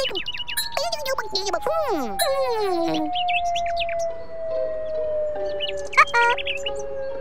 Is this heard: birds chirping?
yes